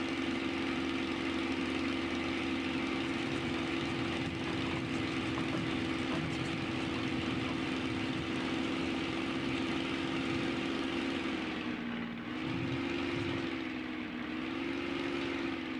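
A Spitfire's piston engine in Microsoft Flight Simulator 2020 runs at high power in a steady drone, dipping briefly near the end before settling again, with no talking.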